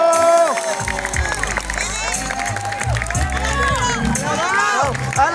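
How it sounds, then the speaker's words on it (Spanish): Loud crowd cheering and applause at a sixth grade Group C school closing ceremony, a dense continuous roar of clapping, whoops and excited voices lasting throughout. "Y un aplauso para el sexto grado Grupo C."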